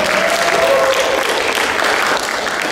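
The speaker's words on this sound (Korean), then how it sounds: "박수 한 번 부탁드립니다." An audience at an industry panel debate on a new government's direction claps in a sustained, even round of applause that holds steady at fairly loud level throughout.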